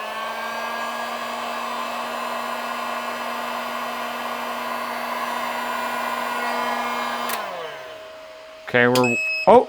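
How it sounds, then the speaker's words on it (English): A LiFePO4 48-volt golf cart battery's contactor smacks open with a sharp snap that cuts off a steady electrical hum; a brief startled exclamation and a few beeps follow. "That kind of made me jump a little bit hearing that contactor smack open."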